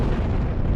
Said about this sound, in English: we all heard the explosion